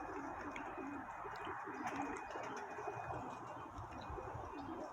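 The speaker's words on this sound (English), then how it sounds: "I got the baby pigeons flying today." Young pigeons coo softly from a short distance, repeated low murmuring calls over a faint steady background, with no one speaking.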